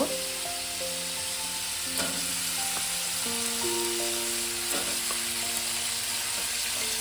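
Vegetables frying together in a pan for a Bengali pui mituli dish, a steady broadband sizzle running throughout with a few louder bursts, while soft tonal music plays underneath.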